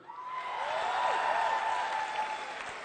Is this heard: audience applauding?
yes